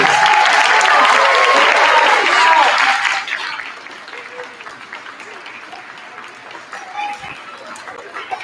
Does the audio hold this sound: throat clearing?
no